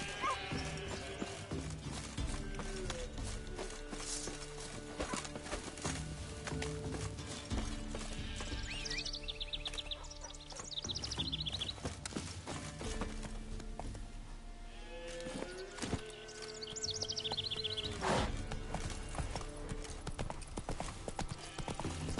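Horse hooves clip-clop rhythmically in the video game Witcher 3, a steady trotting beat under a busy game soundscape with occasional neighs and other animal calls.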